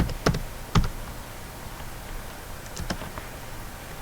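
Keys are tapped on a computer keyboard while a command is entered, a few sharp, separate clicks spread over a quiet background with no talk.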